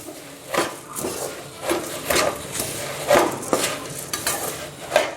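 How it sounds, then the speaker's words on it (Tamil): Puffed rice being stirred and dry-roasted in a pan with a ladle, rhythmic scraping and rustling strokes with a light sizzle underneath, close and moderately quiet, no voices. "பொரியை மிக்ஸ் பண்ணி நல்லா வறுத்து எடுத்துக்கலாம்"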